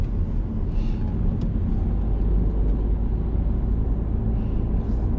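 A car accelerating during a driving lesson, its engine giving a continuous close rumble from inside the cabin with no distinct break for the gear change.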